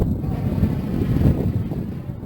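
Outdoor wind buffets the microphone while a Traxxas Aton quadcopter is flown in a breeze, producing low rumbling gusts that swell and fade loudly close to the mic.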